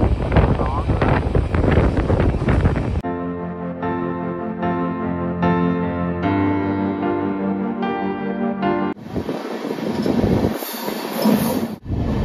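A train on a single-line track past Srungavarapukota station on the Vizag to Araku route roars with loud rumbling and rattling, then shifts to a sustained wheel squeal, and later to buffeting wind noise.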